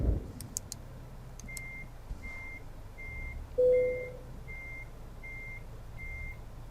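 A truck's reversing alarm in Euro Truck Simulator 2 sounds as a steady series of about seven evenly spaced high beeps while the truck backs a trailer in. A low engine hum runs under it, with a brief air hiss midway.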